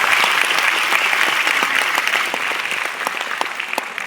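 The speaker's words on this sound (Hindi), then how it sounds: "ताली बजा सकते हैं अपने यूनिफॉर्म के लिए?" Dense, loud audience clapping at a Vestige direct-selling company gathering, sustained for several seconds and easing slightly toward the end, with no voices over it.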